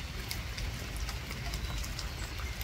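Rain falls outdoors on a farm where pigs clear wild blackberry bushes, a steady soft patter with scattered sharper drops, even and moderately faint throughout.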